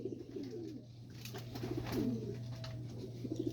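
Pigeons coo close by in soft repeated throaty phrases over a steady low hum, with faint background noise and no talking.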